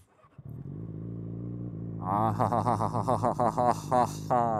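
A 2008 Yamaha R6 motorcycle with an Akrapovič exhaust idles, then revs in a quick series of sharp, loud throttle blips with a raspy, throaty exhaust note, close by.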